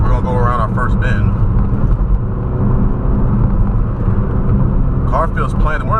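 A Ford Focus RS taking a bend, a loud, steady engine and road roar from inside the cabin holding throughout, with someone talking over it at the start and end.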